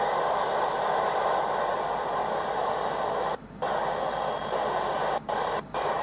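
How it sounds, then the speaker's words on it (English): Steady hiss of ham radio static on the Space Station's radio fills the channel, cut by a few brief squelch dropouts, with no voices. "So now you can hear a lot of static, and we do have a squelch so we can control a little bit of that static."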